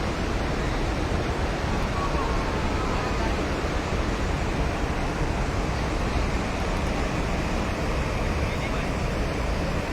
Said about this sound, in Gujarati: આપ જોઈ શકો છો પાણી બનાસ નદીના તટમાં વહેવા લાગ્યું છે